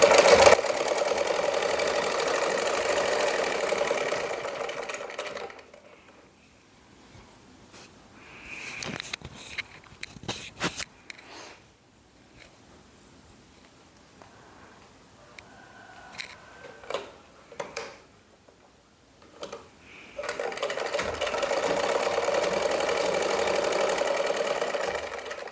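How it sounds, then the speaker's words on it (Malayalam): Sewing machine stitching the hem of a kitchen apron, a steady mechanical whirring run at the start and again at the end, separated by quieter handling sounds and soft clicks. "എന്നിട്ട് നമുക്ക് തയ്ച്ചു തുടങ്ങാം"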